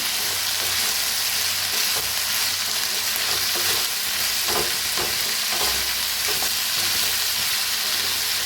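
Diced potatoes for a fasting-day dish frying in a pan with salt and crushed peanuts, giving a steady, dense sizzle throughout with occasional scraping stirs, close and loud.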